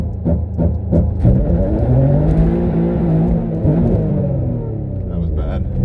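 An Infiniti G35 coupe with a six-speed manual launches hard with wheel spin, the engine revving and rising in pitch in a loud, close rumble while someone talks over it.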